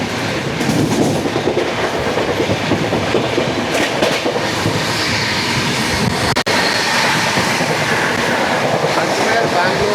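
A moving Sriganganagar Express passenger train rattles steadily with continuous loud clickety-clack and rumble from close by, one brief sharp dip midway.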